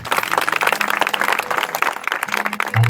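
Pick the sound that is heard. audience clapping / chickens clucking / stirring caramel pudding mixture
audience clapping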